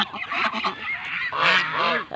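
Domestic geese honk loudly and close by, several overlapping nasal calls in quick succession over about two seconds.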